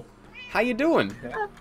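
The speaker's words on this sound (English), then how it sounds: "Cat. That's a cat." A cat in a video game gives a few drawn-out meows over about a second, close and clear, while someone talks at the same time.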